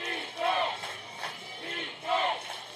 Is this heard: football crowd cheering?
yes